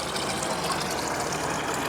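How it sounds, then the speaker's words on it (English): Water rushes steadily through a channel running beneath a church floor, a continuous, fairly loud gushing wash with no pauses and no voices over it. "this water flows from one end of the church underneath"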